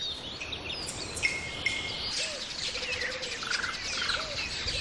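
A sunbird, a small nectar-feeding bird with a thin curved bill, gives quick high chirps and short trills among other faint bird calls and a soft insect hum in an outdoor setting.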